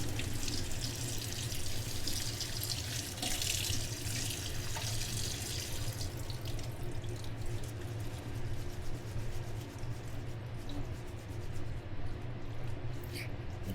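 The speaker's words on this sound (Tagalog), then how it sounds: "banlawan lang natin siya ng tubig para mawala yung lasa ng asin" Tap water runs steadily into a sink while cooked shrimp and mushrooms are rinsed and strained to wash off salt and oil, a continuous close splashing stream with no talking.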